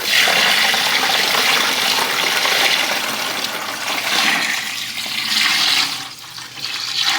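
Water poured from a container over a turkey into a salt brine, a continuous splashing gush that swells and eases in waves before thinning out near the end.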